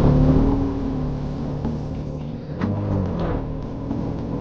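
A Karizma XMR 210 motorcycle engine revs and drops through a hard gear shift on a road ride, its close, steady drone dipping and surging without speech.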